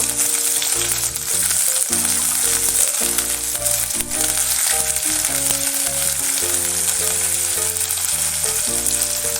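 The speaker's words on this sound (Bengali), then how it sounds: "পেঁয়াজটা একটু হালকা করে ভেজে নেব" Onion frying lightly in hot oil in a pan, a steady hiss running the whole time beneath loud, continuous background music.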